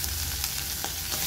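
Garlic and onion frying in oil in a pan, giving a steady close sizzle with light crackles and a low hum beneath, no voices.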